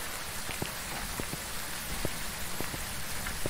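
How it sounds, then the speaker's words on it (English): Steady rain in the Phasmophobia video game, a continuous hiss of falling water with scattered sharper drop taps, heard alone without any talk. "Yeah, it's raining, of course it is."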